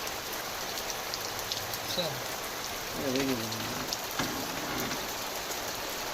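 Steady rainfall over farmland with groundnut fields patters across the whole stretch, a continuous hiss of drops on surfaces with a brief voice or animal call partway through.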